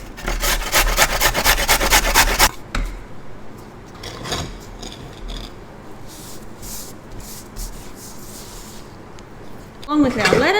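Food being grated by hand on a grater during lunch preparation, rapid rhythmic rasping strokes for a couple of seconds, then quieter scraping with a short burst at the end.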